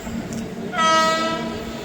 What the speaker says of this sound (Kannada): ಬಂತು ನೋಡಿ friends, 2265 Chennai super fast express